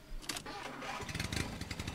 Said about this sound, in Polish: Odpalamy, spuszczamy ręczny.